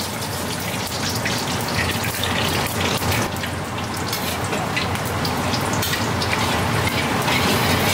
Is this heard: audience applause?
no